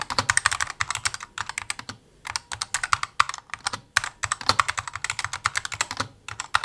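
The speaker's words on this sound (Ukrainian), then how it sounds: "Загальний звук набору тексту буде схожим скоріше на друкарську машинку" Fast, steady typing on an A4Tech Bloody B950 RGB gaming keyboard: dense, loud, clacky keystrokes in quick runs with brief pauses, heard alone with no talking.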